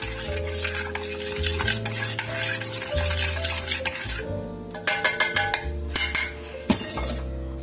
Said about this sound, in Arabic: فهنا غادي نبقى على التحريك بحال ما هكا